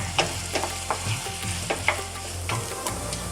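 Minced mutton for street-style samosa filling sizzles steadily in a pan, punctuated by regular scrapes and taps of a spatula as it is stirred, close up with no voices.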